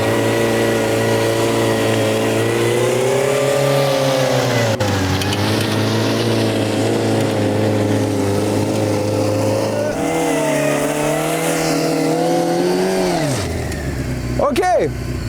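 A motorcycle engine revs hard and holds high throttle during wheelie practice, its pitch climbing and dropping in long sustained pulls, loud and close throughout.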